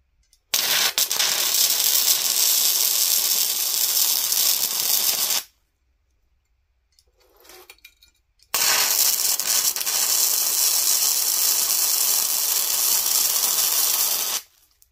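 A Rilon RBM135E MIG welder runs a bead with rough, grungy-burning wire, a loud crackling buzz in two long bursts separated by a pause with faint handling noises.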